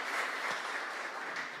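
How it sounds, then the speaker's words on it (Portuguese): Faint applause from a church congregation fills the room, a steady wash of clapping heard at a distance. "Dê uma salva de palmas aí"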